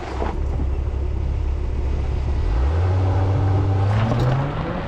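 An Acura TLX Type S car accelerates on the road, its engine note climbing steadily in pitch through the gears over a close, continuous rumble of road noise.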